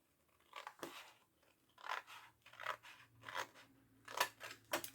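Scissors snip through paper in a series of short, crisp cuts spaced about a second apart while an Advent calendar box is made as a Christmas craft; the sound is close and fairly quiet, with no talking.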